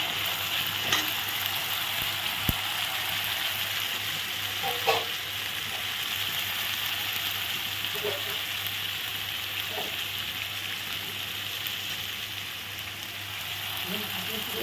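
Spices including chili powder, coriander powder and ground nut paste are stirred in a frying pan, a steady hiss of frying running throughout with a few faint scrapes and clinks of the spatula.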